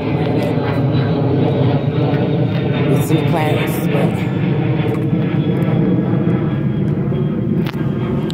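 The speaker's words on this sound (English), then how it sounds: "the plane is irritating." A loud fixed-wing airplane drones steadily overhead, a continuous low roar that fills the whole stretch while people talk outdoors beneath it.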